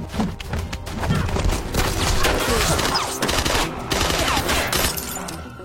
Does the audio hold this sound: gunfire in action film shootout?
yes